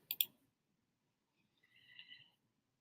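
A single short mouse click on a Next button, crisp and close, followed after a pause by a faint tonal blip from the computer.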